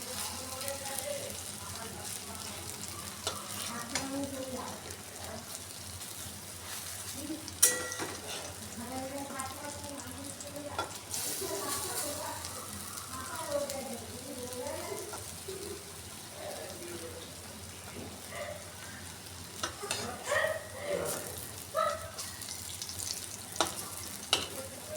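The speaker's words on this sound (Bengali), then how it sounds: "বড়াটার একটা পিঠ ভাজা হয়ে গেল। এবার আমি উল্টে দেবো আর একটা পিঠ ভাজার জন্য।" Vegetable fritters (bora) fry in hot oil as they are flipped to cook the other side, with a soft, steady sizzle and occasional light scraping and stirring clatter, quiet and close.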